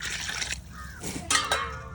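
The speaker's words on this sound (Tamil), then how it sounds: "4 டம்ளர் தண்ணி ஊற்றிருக்காங்க." Water poured from a tumbler into a cooking pot while making village-style biryani, a brief splashing pour in two short bursts, close and moderately loud.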